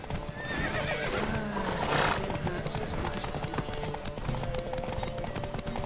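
A horse in The Witcher 3 video game whinnies loudly over rapid hoofbeats, with galloping clip-clop continuing steadily underneath, close and energetic.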